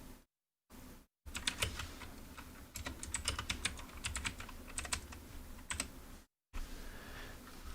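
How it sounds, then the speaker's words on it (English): A computer keyboard is typed on in quick, uneven bursts of crisp clicks, fairly quiet and close, broken by a few short silent gaps. "this keyboard might just be the best that you've ever heard"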